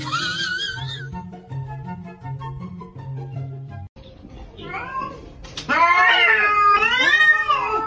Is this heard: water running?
no